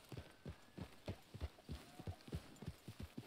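Horse hooves clip-clop in steady, even strides in the video game Red Dead Redemption 2, about a dozen close, clear thuds over a low background hum, with no talking.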